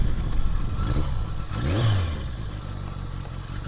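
A Yamaha XJ650 Turbo motorcycle engine runs close by, a steady mid-pitched thrum with a short rising rev in the middle before settling back to an even idle.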